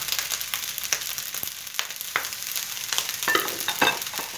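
Nasi goreng (fried rice) being stirred in a hot pan, giving a steady broadband sizzle with scattered scraping and clinking strokes of the spatula, close and moderately loud, without voices.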